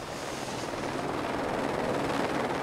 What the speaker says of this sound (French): L'hélicoptère réalise une deuxième rotation.